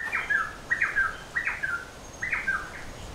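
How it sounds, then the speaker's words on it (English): Tropical birds call in a steady series of four squawking, chirpy bursts, moderately distant against a soft outdoor hiss, in tropical North Queensland, Australia. "The birds here make so many cool noises."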